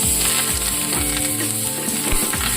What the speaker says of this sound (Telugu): తాలింపు పెట్టేస్తున్నాము